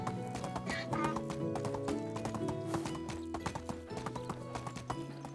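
Donkey hooves clip-clop in a video game, a steady run of close, crisp hoof taps mixed over game music and ambient sound, with no talk.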